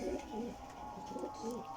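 A Teddy Kasuri pigeon, a flying breed, coos in low repeated phrases, close by and fairly quiet, with a faint steady hum in the background.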